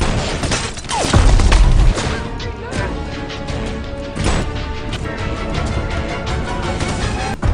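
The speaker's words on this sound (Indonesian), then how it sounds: "Aksi baku tembak pun terjadi" Rapid bursts of gunfire and crashing impacts in a film shootout between police and cartel henchmen, loud and chaotic with repeated sharp shots and rumbling booms.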